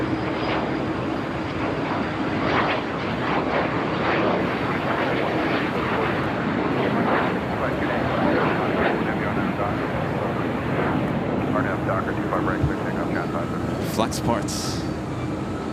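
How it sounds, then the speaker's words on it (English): A United Dreamliner airliner descends toward runway 25 right at LAX, its engine roar a steady, broad rumble throughout, with a person talking over it. "United Dreamliner heading on down to 25 right"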